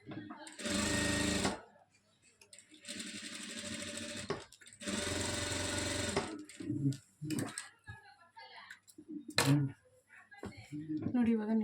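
A sewing machine stitches a churidar dress top in three loud bursts of rapid whirring, separated by pauses, with someone speaking in between and over the later part.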